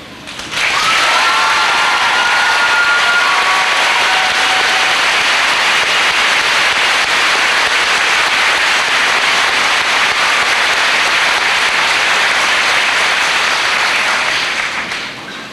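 Dense, loud applause from a large audience at a high school graduation, a continuous roar of clapping that swells in quickly, holds steady for over ten seconds with a faint whistle early on, then tapers.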